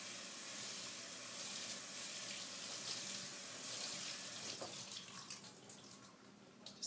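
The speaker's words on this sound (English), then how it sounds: "I'm going to just drain the juice out, and then rinse them." Running tap water splashes steadily into a sink while rinsing drained canned beans, a continuous soft hiss for several seconds with a few clinks near the end, no speech.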